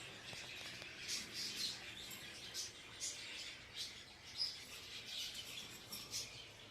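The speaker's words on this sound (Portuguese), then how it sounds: "Tem muitos periquitos top aqui." A flock of Australian budgerigars kept by a breeder chirps and chatters continuously, with quick overlapping tweets over a steady aviary background.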